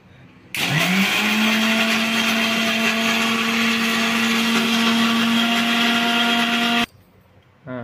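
A mixer grinder whirs loudly and steadily for several seconds after a sudden start, grinding fish feed, then cuts off abruptly.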